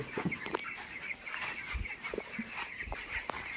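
Broiler poultry chickens around twenty days old cluck and call in a steady, busy chorus inside a poultry shed, with scattered short peeps and occasional low thumps nearby.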